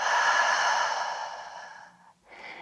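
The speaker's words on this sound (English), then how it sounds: "One more deep breath out." A long, steady exhale during yoga practice, soft and close, fading out over about two seconds before a shorter breath starts up again.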